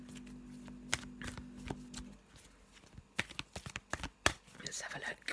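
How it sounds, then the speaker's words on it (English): Tarot cards are shuffled by hand in a quiet room, a string of crisp, irregular flicks and riffles that grow busier toward the end, with a low hum early on and a voice heard partway through. "I'm just going to have a little shuffle and put down a Brian card"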